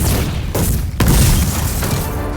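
A loud, deep movie special-effects explosion booms with heavy rumble, followed by sustained roaring noise and debris-like crackle, dense and close.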